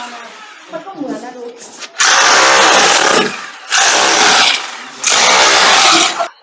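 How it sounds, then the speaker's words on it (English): Hammer drill running in bursts in a kitchen under renovation: three loud, harsh rattling runs of a second or more each, separated by short pauses, with quieter speech and background noise before the first burst. "It ain't jackhammer, it's a hammer drill."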